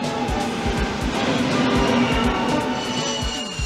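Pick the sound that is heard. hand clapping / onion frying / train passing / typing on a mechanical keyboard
train passing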